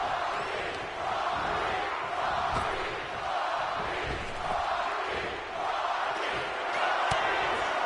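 A wrestling arena crowd in WWE 2K25 roars and cheers as one continuous dense wall of noise, with a few sharp impacts cutting through.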